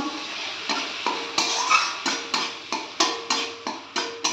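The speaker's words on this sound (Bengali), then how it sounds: "ভালো করে একটু নেড়ে নেব" A spoon stirs spices and water in a cooking pan for a thin Bengali hilsa fish curry, making regular rhythmic scraping strokes roughly twice a second over a soft sizzle, close and fairly loud.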